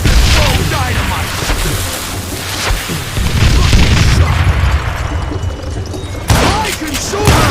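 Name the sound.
dynamite explosion in the video game Call of Juarez: Gunslinger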